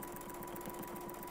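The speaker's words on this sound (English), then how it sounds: "I'm just going to sew in a little bit" A Westalee Spin E sewing machine stitches steadily, its needle drive producing a fast, even mechanical whir with a regular pulsing rhythm, close and continuous with no talk.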